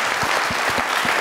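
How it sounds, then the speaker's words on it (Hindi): Studio audience applause on a Pakistani comedy talk show, dense steady clapping with a few louder individual claps standing out, close and continuous for about a second with no talk over it. "तो प्लीज इमरान भाई के लिए तालियां।"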